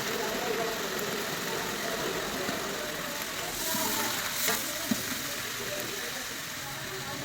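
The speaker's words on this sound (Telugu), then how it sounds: "ఎండుమిర్చి కరివేపాకు ఇవన్నీ వేసి పోపు పెట్టుకొని" Dry red chillies and curry leaves sizzle in hot tempering oil with a steady, hissing fry that stays even throughout and carries a faint low hum underneath.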